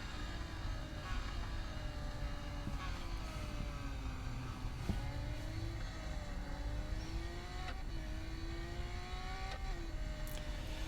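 Race car engines from the Real Racing 3 video game, including Lamborghini Aventadors and Gallardos, drone and whine steadily, rising and falling in pitch as cars accelerate and overtake, with no talk.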